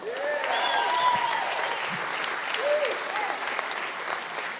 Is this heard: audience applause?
yes